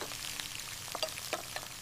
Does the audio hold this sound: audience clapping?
no